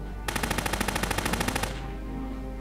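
Rapid machine-gun burst in the Silent Storm video game, a steady string of close, loud shots lasting over a second before trailing off into background ambience.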